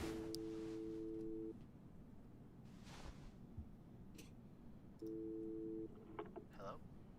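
In the video game Life Is Strange 2, a telephone line rings with two bursts of steady electronic tone separated by a pause, moderately loud over quiet ambient game sounds.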